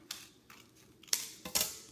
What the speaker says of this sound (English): take my scissors and cut straight across that line